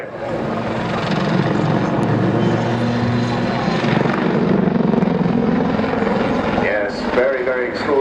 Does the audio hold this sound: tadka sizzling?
no